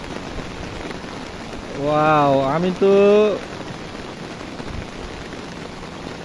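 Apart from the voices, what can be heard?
heavy rain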